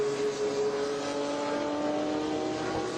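A Ginetta G12 race car runs at Watkins Glen, its engine a loud, steady drone with a sustained tonal whine held throughout, no voices.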